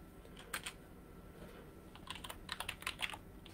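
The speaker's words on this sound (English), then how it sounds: "I was trying to type something and it kept auto-correcting" Quiet typing on a computer keyboard, a short burst of clicks, then a pause, then a denser cluster of keystrokes, close but low in level.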